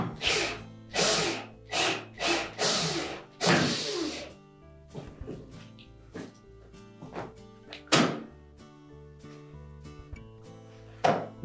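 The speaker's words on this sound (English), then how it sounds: "Now to remove this bracket, we'll begin by removing the screw." Removing a screw from the spring retainer bracket of a Whirlpool washer produces a series of sharp metallic clacks and tool knocks. A rapid cluster comes first, then scattered single taps, close by with no talking.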